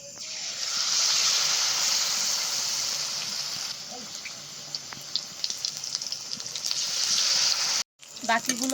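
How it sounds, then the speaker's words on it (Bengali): Pieces of paneer fry in hot oil for a paneer satay, giving a loud, steady sizzling hiss that fades slightly, with sharp crackles and spatters toward the end after a brief break. "এবার বাকিগুলো ভেজে নেব।"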